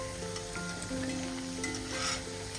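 Chicken cutlets frying in oil, a steady close sizzle with light stirring and scraping sounds, no voices.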